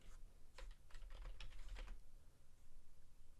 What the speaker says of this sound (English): I'm just going to type GP update in my PowerShell here